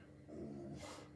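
A pet dog named Hazel lets out a short, low growl close by in a quiet room, rising briefly then trailing off into a breathy snort, with no one speaking.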